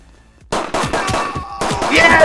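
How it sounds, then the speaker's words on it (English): Gunshots ring out in the Midnight Fight Express video game, a quick run of loud, sharp shots in a tight rhythm after a quiet moment, close and punchy. "Hold right trigger to shoot."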